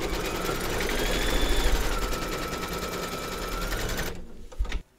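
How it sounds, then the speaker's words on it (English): An embroidery sewing machine stitches fabric held in a hoop, a steady, fast mechanical chatter running close and loud for about four seconds before winding down and stopping. "Pop your hoop into your machine and stitch round number 4 to secure it."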